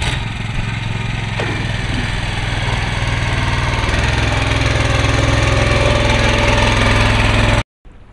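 A motorboat engine runs steadily on a river during a riverside ash-immersion ritual, a loud continuous drone that cuts off abruptly near the end.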